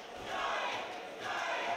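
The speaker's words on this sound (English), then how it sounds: "Hometown hero Scott, you can hear the crowd behind them here." Crowd at a boxing fight night, cheering for a hometown hero fighter, forms a steady, loud wash of massed voices and roar with no distinct words, swelling slightly toward the end.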